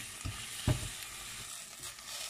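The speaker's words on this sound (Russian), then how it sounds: "Пока мои тефтельки обжариваются, я обжариваю здесь овощи." Meatballs and carrot-and-vegetable mix fry in a pan for lenten meatballs with rice, giving a close, steady sizzle with a couple of brief stirring knocks near the start.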